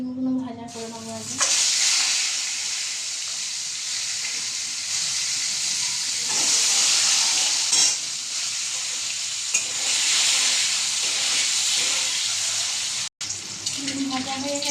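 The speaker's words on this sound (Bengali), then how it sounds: "আমি ডিমগুলো ভাজা করে নেবো আগে" Eggs seasoned with salt and turmeric fry in oil with a loud, continuous sizzle and a few stirring scrapes, then a brief cut near the end.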